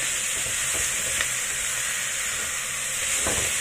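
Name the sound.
chicken frying in a wok for Taiwanese-style curry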